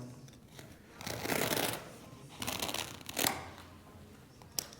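A blade cutting through padded boat deck carpet, rough scraping strokes in bursts with short pauses, close and fairly loud, no voices.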